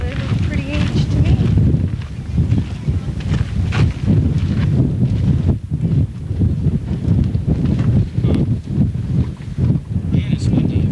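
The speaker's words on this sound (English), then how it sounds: "Man, it's windy up here." Strong gusting wind at a high spot near Baker City roars and buffets across the microphone throughout, steady and loud with no break.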